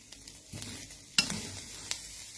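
Fish roe dry-roasted in a pan with the gas off, a utensil stirring and scraping with two sharp knocks over a low sizzle, close and fairly quiet.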